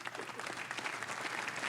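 Steady crowd applause at a snooker match in the video game Snooker 19, a dense clapping wash at moderate level, with no voices over it.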